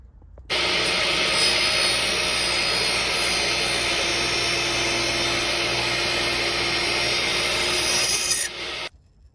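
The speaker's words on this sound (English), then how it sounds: "I made a simple holding jig which I can run through the table saw" Steady, loud whirring of a table saw cutting a wooden dowel held in a jig runs almost the whole time alone, then stops near the end.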